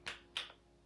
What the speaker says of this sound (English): So I want to give myself a clap.